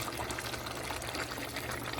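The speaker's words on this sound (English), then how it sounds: "I'm gonna add some boiling water from my kettle." Boiling water pours from a kettle in a steady, close, unbroken rush of liquid that lasts throughout, with no voices.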